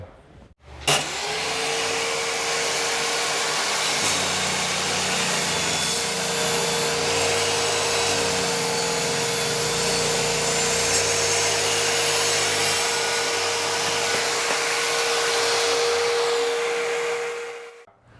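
A table saw spins up and runs steadily at a loud, sustained whine for about seventeen seconds, the blade ripping through wood before winding down.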